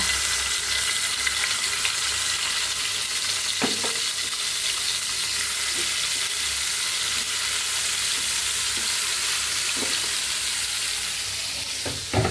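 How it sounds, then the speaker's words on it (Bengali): Tilapia fish coated with turmeric and chili powder fries in a pan on the stove, a steady loud sizzle running throughout with a few soft clinks of stirring. "এখন এই চুলাতে মাছটা ভাজি।"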